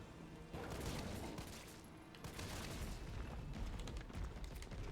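Loud, sustained blasts and bursts of fire in a Resident Evil 3 Remake boss fight, starting abruptly after half a second and rumbling dense and close through the rest of the stretch.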